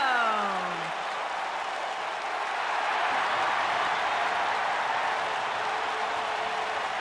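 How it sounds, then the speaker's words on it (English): Arena crowd applauding and cheering for wrestler Chris Jericho's entrance at a tag-team match, a steady, broad wash of clapping that holds for several seconds, with a fading tonal sweep at the very start. "Get on your feet and applaud over there, Suxton."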